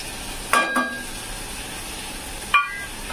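Sprouted moong with spices being stirred in a hot pan: a steady low sizzle with two scraping metallic spoon strikes near the start and one more toward the end, no talking.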